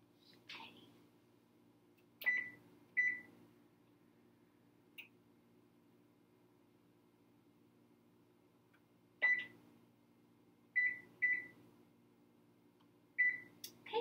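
An oven's control panel beeps while the baking temperature is set, sharp single and double electronic tones in separated bursts over a quiet kitchen hum.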